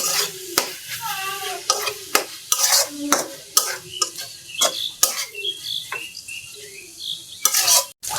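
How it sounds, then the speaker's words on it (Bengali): Beef with spices is stir-fried in a pan, a rhythmic series of spatula scrapes and metallic knocks over a sizzle, close and clear, with no speech. "আমার মাংসটা হালকা একটু কষা নিচ্ছে"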